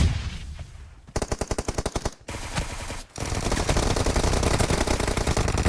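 A suppressed QBZ rifle fires in PUBG Mobile: a short volley of rapid, evenly spaced shots, a brief pause, then loud sustained automatic fire.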